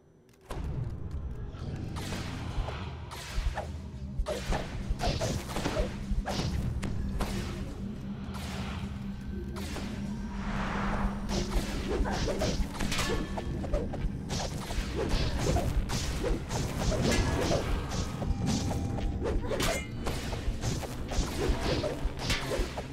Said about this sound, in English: Ice crumbles under your feet as the traitorous Doomsphere attacks.